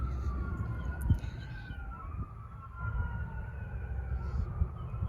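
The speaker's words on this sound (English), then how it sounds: "There's a sirens again" Emergency vehicle sirens wail faintly in the distance outside, their slow rising and falling tones drifting over a low rumbling background.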